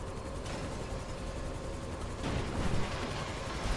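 Dense, continuous video-game gunfire in a firefight, rattling bursts layered over rumbling explosions, loud and steady throughout and swelling heavier partway through, with no voices.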